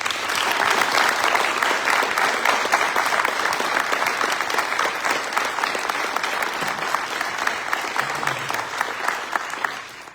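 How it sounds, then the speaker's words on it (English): Sustained audience applause at the 2023 Circle of Friends Arts and Culture Award celebration, steady and loud from start to finish, dense clapping with no speech over it. "Please join me in one more round of applause for everybody"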